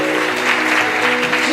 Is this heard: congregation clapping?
yes